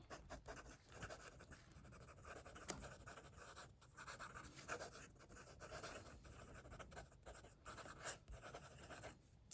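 A Benu Dailymate fountain pen with a stub nib scratches across paper in quick, close strokes, soft and faint, with short pauses between word bursts.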